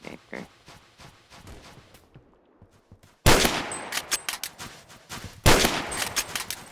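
Rapid gunfire bursts from a Roblox first-person shooter game, loud, sharp cracks clustered in volleys, with a quieter stretch of scattered shots before the firing grows dense and close.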